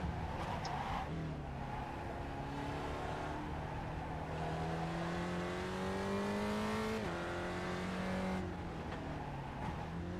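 An iRacing sim race car's engine drones with a continuous high whine, its pitch climbing steadily through the gears and then dropping at each shift, heard faintly in the background.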